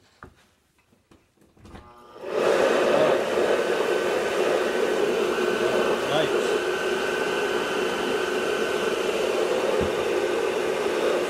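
A homemade squirrel-cage blower fan for a garage ventilation system starts up after a brief quiet moment, then runs with a steady, loud whooshing roar and hum for the rest of the clip.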